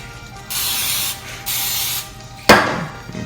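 Cooking spray hisses in two steady bursts onto a hot waffle iron, followed by a sharp clack and brief rattle as the can or iron is set down, close and clear with no talk.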